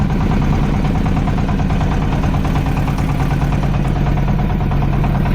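A boat engine runs steadily at Chilmari port, a loud, constant low-pitched throbbing drone with no break.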